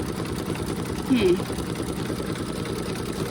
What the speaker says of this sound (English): it's stitching over where the other one was